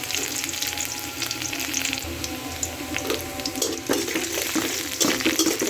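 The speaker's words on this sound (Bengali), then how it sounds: "এখন আমি এরকম দুটো রসুন কুচি ছেড়ে দিব তো এগুলোকে ভালো করে মেরে চেড়ে নেব" Chopped garlic and dried red chillies frying in mustard oil, a continuous bright sizzle with crackling pops and occasional scraping stirs, close and steady without speech.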